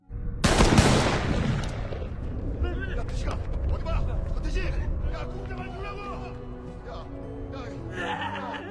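In a scene from the film The Man From Nowhere, a gunman steps out of a car and sprays gunfire. A sharp loud burst of shots opens the scene, then a voice narrates over a lingering rumble.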